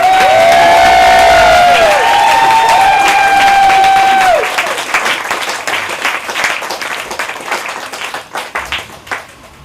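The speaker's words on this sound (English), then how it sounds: "A round of applause for Vimbai." An audience at a talk about ranger work against ivory poaching cheers and whoops loudly over dense clapping, then the cheering drops away and the applause thins into scattered individual claps.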